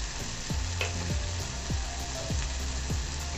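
Spices such as turmeric and cumin frying in hot oil in a pan for bamboo shoot curry, a steady loud sizzle with repeated scraping stirs of a spoon at a regular rhythm.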